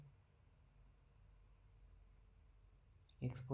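A computer mouse clicks in NX 12 CAD software near the end of a quiet stretch with a low room hum, a short close burst of clicks.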